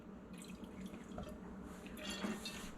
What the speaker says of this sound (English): So as you can see, all the vodka's coming out.